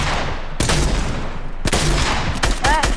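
Gunshots in a video game, loud bursts of rapid fire that come in several waves with brief pauses between them, plus a short rising electronic tone near the end.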